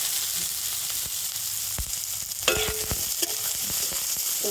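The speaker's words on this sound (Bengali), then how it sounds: "তেলের মধ্যে দিয়ে দেব অল্প একটু গোটা জিরে, আর দিয়ে দেব পেঁয়াজ আর কাঁচা লঙ্কা" Whole cumin seeds, onion and green chili frying in hot oil in a pan, a steady close sizzle with brief clacks and scrapes of a spoon stirring, no talk.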